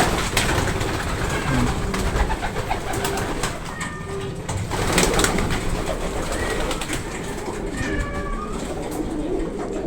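Pigeons coo in the hen section of a fancier's loft, soft repeated calls over a dense, steady background of birds, with occasional faint sounds that resemble meows.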